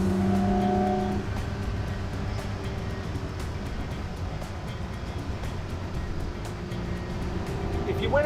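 A 1963 Ferrari 250 GTE on the road, its engine a steady low drone with a rise in revs near the end, heard from inside the cabin with a voice briefly audible at the start.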